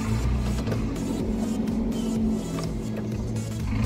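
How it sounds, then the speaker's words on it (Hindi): A car with a straight-piped cast iron exhaust and a broken exhaust tip revs in a continuous, loud, rough drone that rises and falls slightly without pause. "जब पिकअप लेता है गाड़ी, तब वो ढक ढक ढक ढक ढक करके एक बहुत ही गंदा नॉइज़ करता है"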